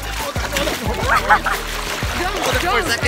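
Water splashing and sloshing around a person floating in the very salty Dead Sea on a hot day, close and intermittent, with people talking over it throughout.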